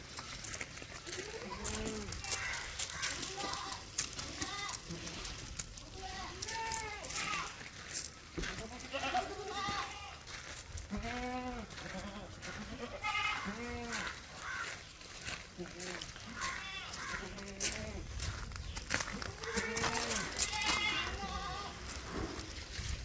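A good milk goat and her roughly two-week-old kid bleat repeatedly at close range on a goat farm, the calls recurring throughout while someone talks over them.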